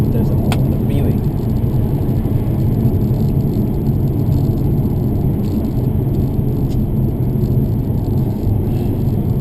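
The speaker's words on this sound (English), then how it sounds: "The car in front of me is driving at 60 kilometers an hour on the freeway." Car cruising along a freeway at about 60 km/h, a constant loud low road rumble and engine drone with faint rattles, steady and unbroken from start to finish.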